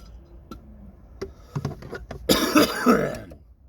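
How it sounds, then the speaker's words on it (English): Several short throat-clearing coughs, close and fairly loud, ending in a harsher, longer burst of coughing. "Cough, cough, cough."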